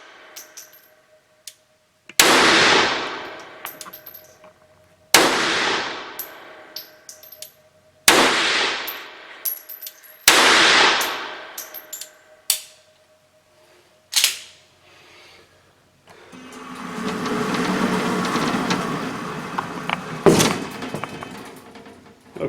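Sharp pistol shots from an RIA Baby Rock 1911 A1 chambered in .380, fired one at a time on a range with pauses of a few seconds between reports, each ringing out and decaying, followed by a longer stretch of rustling handling noise.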